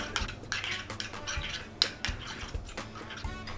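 A spoon stirs a yogurt salad dressing in a bowl, with quick repeated clinks and scrapes against the sides over a few seconds, close and moderately loud, with no talk.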